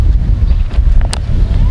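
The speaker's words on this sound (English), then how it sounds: "It's quite windy." Steady low rumble of wind buffeting the microphone on a seafront in Içmeler, Turkey, loud and continuous, with a faint voice underneath.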